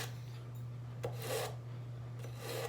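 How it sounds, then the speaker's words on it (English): A dishwasher-dulled kitchen knife drawn through a handheld sharpener in a home kitchen, a few short faint rasping strokes over a low steady hum. "We put our knives in the dishwasher, which makes them dull, so I always sharpen them before I use them."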